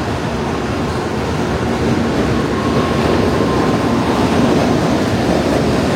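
A Japanese bullet train departing a station, heard as a steady, loud rumble and rush of rolling wheels and air that builds slightly, with a faint tonal whine, no talking.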